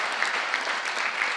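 An audience at a London Business School talk applauds. The clapping is dense and steady, somewhat distant and soft, and lasts through the short stretch with no speech over it.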